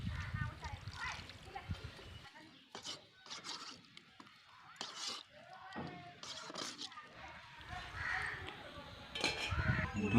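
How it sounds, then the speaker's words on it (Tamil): Water poured into chicken gravy cooking in a pan, giving splashy bursts and clinks of metal against the pan, with a voice talking throughout. "இந்த டைமில் தேவையான அளவு தண்ணி ஊற்றிக்கலாம்."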